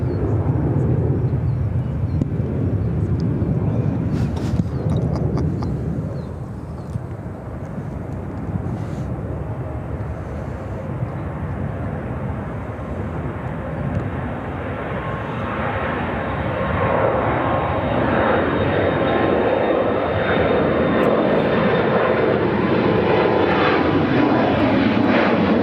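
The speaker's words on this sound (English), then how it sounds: "737-800. Interesting. That front landing gear is still up." A Boeing 737-800 airliner at Chicago O'Hare airport gives a loud, steady engine roar that swells and slowly shifts in pitch as the aircraft passes nearby.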